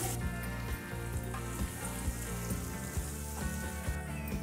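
Garlic, green chillies and finely chopped onion fry in a hot pan over a high flame, a constant loud sizzle with small crackles and spatter, heard close and alone.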